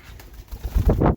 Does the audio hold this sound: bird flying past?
yes